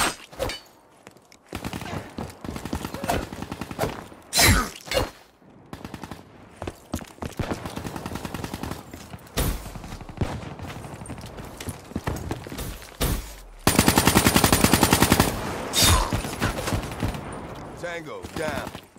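Gunfire in a Black Ops 3 team deathmatch on the Stronghold map, with bursts and single shots scattered over the whole stretch, some loud and close, and a dense sustained burst near the end, with voices talking over the action.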